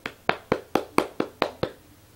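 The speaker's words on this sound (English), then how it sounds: "that was a nice little clap" Eight crisp hand claps in an even, quick rhythm about a quarter second apart, close and clear with no voices.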